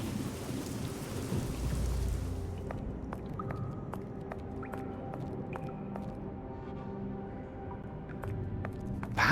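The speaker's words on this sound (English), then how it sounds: "The storm no doubt drowns out my calls" Heavy rain and rumbling thunder in a stormy scene from the video game Sherlock Holmes: The Awakened, a continuous loud downpour with scattered drips and a deep roll near the start, with no voices.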